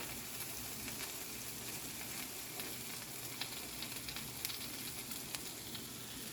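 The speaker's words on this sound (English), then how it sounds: "I'm going to cover it and let the rest of the whites continue to cook." An egg white omelet with cheese sizzles steadily in a covered pan, a dense, even crackle with small pops throughout, close and fairly quiet, no voices.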